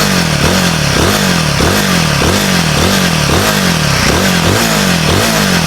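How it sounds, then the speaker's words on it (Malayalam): A Royal Enfield Guerrilla 450 with its Sherpa engine revs hard and close, its throttle blipped in a steady series of rising and falling bursts over a constant loud mechanical roar. "ഭയങ്കര ഈഗറായി എഞ്ചിന് റെവ് ആണ് കേട്ടോ."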